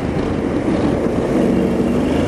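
A Honda X-ADV 750 motorcycle cruising in fourth gear at about 120 km/h gives a steady, loud engine drone mixed with heavy rushing wind noise, unbroken throughout.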